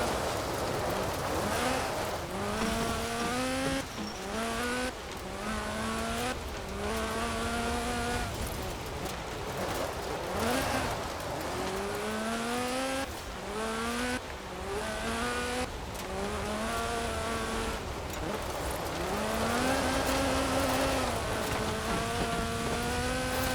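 A Lotus Sunbeam with a 2.2-litre slant-four making 250 bhp races in Forza Horizon 4, the engine rising and dropping in repeated pitch sweeps through gear changes, loud and continuous over a steady background hiss like rain.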